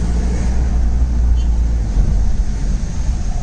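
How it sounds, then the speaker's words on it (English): A Mitsubishi Pajero with a modified hybrid clutch pulls in third gear from around 1000 RPM, its engine a loud, steady low drone with road and wind noise; a voice is faintly present. "I'm now in third gear, down to 1000 RPM, no vibrations. I'm accelerating in third."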